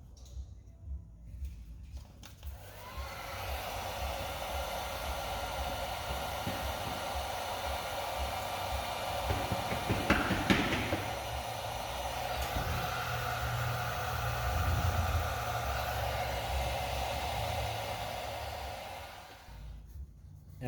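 A heat gun blows a steady, loud airy roar for about seventeen seconds, shrinking glue-lined dual wall heat shrink tube on an exterior wire connection, with a brief quiet lead-in and a short drop at the end.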